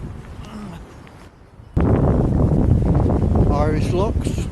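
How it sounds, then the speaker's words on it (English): Wind buffets a microphone beside a canal lock in Ireland, a dense roaring rumble that cuts in suddenly and then holds steady, with a faint voice briefly audible beneath it. "it's windy"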